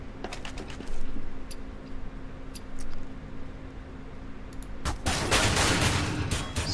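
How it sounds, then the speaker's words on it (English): Tech-9 pistol gunfire in Counter-Strike, a few sharp scattered shots early on, then a louder burst of rapid fire near the end amid game ambience. "then WinD comes with a Tech 9 and just destroys Nightfly"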